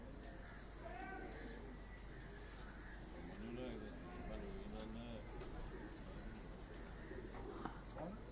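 Tounsi pigeons coo softly and repeatedly under a steady low hum, their calls faint and somewhat distant, while people talk in the background.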